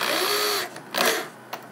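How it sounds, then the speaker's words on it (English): A power drill strips a screw on a Mackie SRM450 v1 powered speaker, giving a loud, close whir for about half a second, then two brief spurts of the motor. "Stripped out the screw. Be careful using a drill on these."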